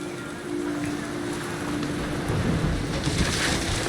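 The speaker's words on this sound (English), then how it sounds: "The rain came down in buckets then" Steady heavy rain in the video game What Remains of Edith Finch, a dense continuous hiss with low rumbling thunder swelling toward the end, no voices.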